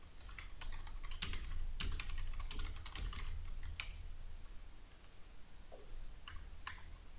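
Rapid typing on a computer keyboard while CSS code is written, with irregular bursts of sharp key clicks and short pauses, close and fairly quiet.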